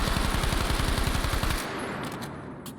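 A firearm fires one rapid burst of roughly fifteen evenly spaced, loud, close shots, then stops and leaves a fading echo and faint clinks.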